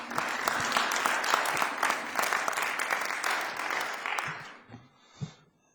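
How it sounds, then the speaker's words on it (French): Sustained audience applause at a conference on the Turkish intelligence service, dense and steady for several seconds before tapering into a few scattered claps and a short thump. "Je vous remercie donc de l'applaudir."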